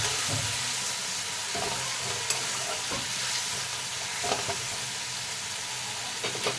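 Masala with chili, coriander and cumin powders and a splash of water fries in a pan for a fish and eggplant curry, a steady close sizzle with occasional scraping stirs and clinks.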